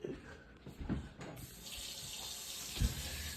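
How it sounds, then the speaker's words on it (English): Hot water gushes from a kitchen tap, starting after a few faint clinks and handling sounds, then running as a steady close hiss to the end. "can you go turn on the hot water?"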